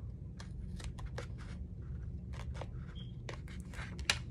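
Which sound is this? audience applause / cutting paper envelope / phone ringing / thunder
cutting paper envelope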